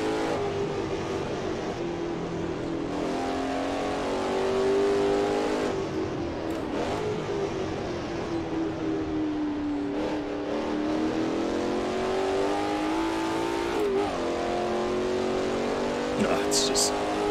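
A vintage race car in Assetto Corsa on the 1967 Nurburgring: a close engine rising and falling through revs as the driver throttles and shifts, with occasional tyre noise and someone talking over it.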